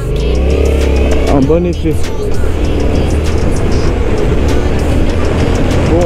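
A Yamaha XSR 700 motorcycle accelerates, its engine note rising loud and close through the gears with a brief pitch sweep, while someone talks over it in French.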